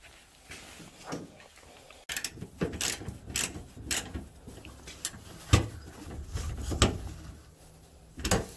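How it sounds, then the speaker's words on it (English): A ratchet cranks a small nut down on a tailgate lock installed in a 2020 Toyota Tundra Pro, with intermittent clicking bursts and mechanical rattles in short spaced groups, close and moderately loud. "All right, then we're gonna crank that little nut down."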